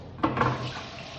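Tap water gushes briefly into a sink for hand washing, a close, soft splashing burst that settles into a steady, faint trickle.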